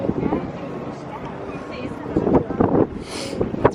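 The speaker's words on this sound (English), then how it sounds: "The wind up here is really really cold." Cold wind buffets the microphone on a high rooftop overlooking the Manhattan skyline, a rough gusty roar that swells and fades with faint city noise beneath.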